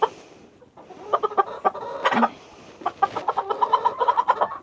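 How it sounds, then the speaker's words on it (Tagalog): Chickens cluck and chatter nearby in quick, irregular bursts, with a run of rapid clucks toward the end. "Ito kasi yung pinakamalaki ko na manok."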